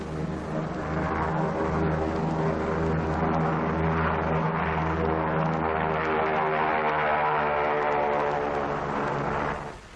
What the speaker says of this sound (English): At Inawetok, Army Air Force drones are preparing to take off.